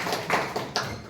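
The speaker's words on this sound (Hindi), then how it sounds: "ताली बजा दो।" A few students clap hands in a classroom, giving several sharp, separate claps over about a second against steady background noise.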